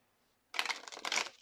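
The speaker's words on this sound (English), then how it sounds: "let me just quickly shuffle my deck" A tarot card deck being shuffled by hand, two quick, close papery riffle bursts after a short silence.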